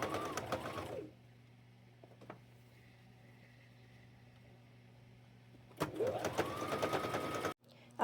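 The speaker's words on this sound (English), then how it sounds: "sew it down with another straight stitch" Sewing machine running a straight stitch through layered fabric for a bed skirt duster: a close, rapid mechanical whirring burst at the start and another near the end, with a quiet hum between.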